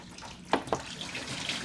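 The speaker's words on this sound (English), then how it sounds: "We're going to carefully pop this out and lose oil and a lot more coolant." Coolant and oil spilling and draining from a Chevy Cruze 1.8L Ecotec engine as a part is popped out, a soft continuous trickle with a couple of louder splashes early on.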